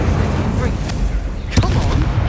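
In the Hogwarts Legacy video game, Incendio fire spells are cast, producing loud whooshing bursts and booms over a dense, continuous game soundscape, with a sharp blast about midway.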